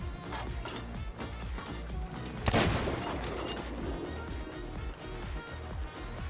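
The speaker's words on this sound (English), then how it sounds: "Reload cannon, shoot." Ship cannons fire during a Sea of Thieves custom server event, one sharp loud blast standing out amid a busy wash of game sounds, waves and distant shots.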